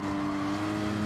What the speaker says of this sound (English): downshifted too much. Not ideal.